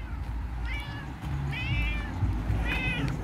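A cat meows three times at an even pace, each a clear, drawn-out cry over a steady low rumble.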